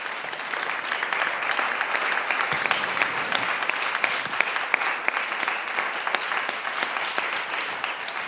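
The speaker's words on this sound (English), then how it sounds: "I believe our speakers deserve a huge round of applause" A room full of people applauding panel speakers after a discussion on peace and disinformation, a steady, even wash of clapping lasting the whole stretch, moderately loud and uninterrupted by talk.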